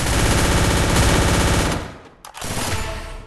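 Rapid automatic SCAR and MP5 gunfire in the mobile shooter Free Fire, a dense loud burst for about a second and a half, a brief drop, then more firing resuming.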